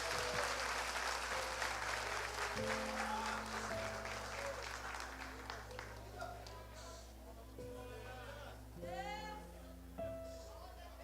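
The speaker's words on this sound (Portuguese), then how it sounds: "dando a Jesus uma linda salva de palmas" Church congregation clapping at a worship service, a soft wash of applause under sustained music tones and occasional voice, fading and thinning toward the end.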